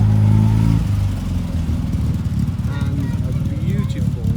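A classic car engine at a classic car gathering at Brooklands rumbles and revs nearby, a loud low drone that rises and shifts, with some clatter under it.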